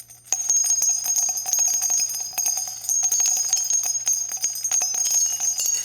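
A notification bell sound effect rings as a bright, sustained metallic tinkle with rapid repeated strikes, steady and fairly loud throughout with no voices.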